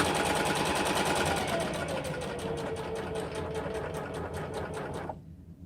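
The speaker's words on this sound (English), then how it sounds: "I'm going to sew around, and make sure you back stitch at the beginning and the end" Sewing machine running steadily as it stitches the lining of a fabric pouch with back stitching, a continuous close motor whir with rapid needle rhythm that stops abruptly near the end.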